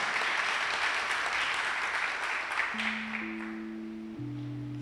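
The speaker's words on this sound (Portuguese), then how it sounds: "Será que a gente pode aplaudir a Jesus por isso?" A church congregation applauds in a sustained, dense wash of clapping that fades slightly toward the end as a keyboard tone enters.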